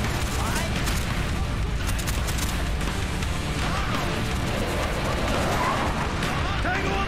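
Gunfire from an M60 machine gun in Call of Duty Black Ops, dense continuous shooting and booms in a loud game battle, with voices talking over it.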